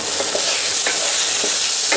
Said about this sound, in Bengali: ভালো করে মিক্স করে দিচ্ছি সব কিছুর সাথে।